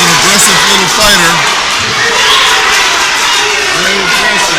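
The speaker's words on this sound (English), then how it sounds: "you can hear the crowd. We have about 200 plus people here cheering for both guys" A crowd of about 200 people cheers for both fighters at a live fight night, a dense steady roar that never drops out, with a commentator talking over it.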